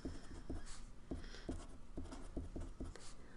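Pen or chalk strokes from someone writing out equations land in quick, uneven taps and scratches, close and fairly quiet, with no talking.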